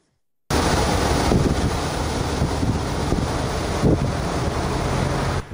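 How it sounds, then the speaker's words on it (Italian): A violent storm with strong wind and heavy rain lashes Trieste, a loud, steady roar of wind buffeting the microphone and pouring water that holds from start to finish with brief gusting swells. "Un vero e proprio nubifragio si è abbattuto su Trieste questa mattina intorno alle 9"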